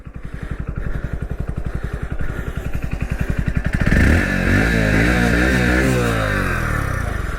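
A Hero Splendor Plus flex-fuel motorcycle engine running on E85 idles with a steady, thumping putter up close, then revs harder and keeps running at a louder, rougher pitch.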